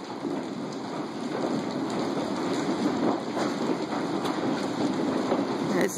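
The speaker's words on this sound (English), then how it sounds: "this is some big, heavy hail." Big, heavy hail pours down during a March hailstorm in Florissant, Missouri, a dense, constant clatter and hiss with scattered sharper impacts, steady and close with no voices.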